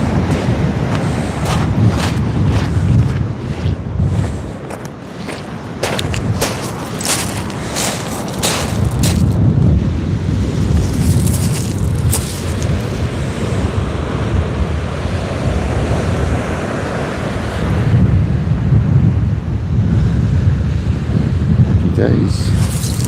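Wind gusting over open sea during kayak fishing, with steady broadband rush and surf-like wash throughout, buffeting the microphone loudly at times, while a voice speaks intermittently.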